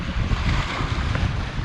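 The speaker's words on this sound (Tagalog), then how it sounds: "Grabe ang lakas ng alon." Strong ocean waves crash and churn at a fishing spot while heavy wind buffets the microphone, a loud, constant roar of surf and gusts with no voices.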